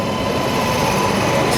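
Train hauled by WAP-7 electric locomotive 37489 on an Indian line, a steady loud rumble of rolling wagons and rail noise throughout, close by and continuous with no talk.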